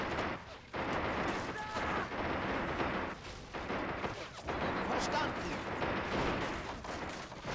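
Dense, continuous gunfire and blasts from a Men of War: Assault Squad battle, with machine guns rattling amid booming explosions, loud and steady throughout, with faint talk underneath.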